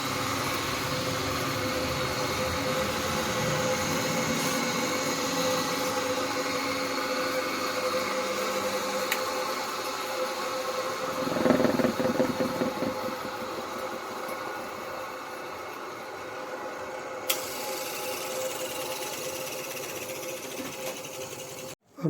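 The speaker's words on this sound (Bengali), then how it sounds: "দেখতেই পাচ্ছেন আমার মোটরটা ঘুরছে।" A clutch motor, apparently under repair for a sanding problem, runs steadily with a constant whirring hum, a brief louder rattle midway, and no talk.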